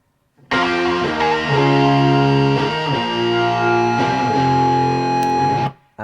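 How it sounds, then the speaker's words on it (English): Two layered distorted electric guitar tracks from a song's outro, playing sustained, loud chords that shift every second or so before cutting off abruptly, with no talking. "So here's the first 2 tracks of the guitars on the outro."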